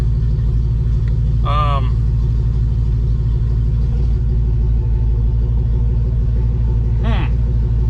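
A budget project car's healthy-sounding engine idles steadily at about 50 psi oil pressure, a continuous low rumble throughout, with two brief higher chirps breaking in.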